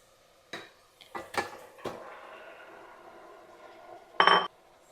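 Mutton pieces drop into a pressure cooker pot with rice, making several sharp metallic clinks and knocks, then a softer scraping stretch and one loud clanking hit near the end.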